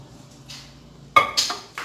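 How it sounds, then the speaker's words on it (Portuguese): A spoon stirs mug pudding, giving a few faint scrapes followed by sharper clinks against the mug's side, irregular and close, with quiet gaps between. "agora eu vou dar uma misturadinha aqui"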